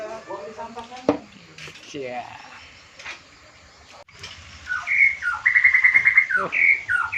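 Birds chirp and tweet in bright, repeated bursts, growing busier and louder in the second half, with a voice briefly audible early on.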